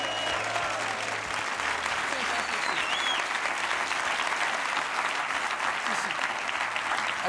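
Steady audience applause fills the room at a constant level for the full stretch, a dense, even clatter of many hands with a faint low hum beneath and no clear talking over it.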